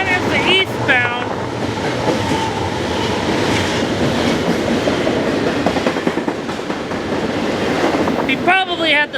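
An eastbound train passes on railroad tracks, giving a steady, loud rumbling roar with rhythmic clatter throughout, plus a few brief high squeals near the start and end.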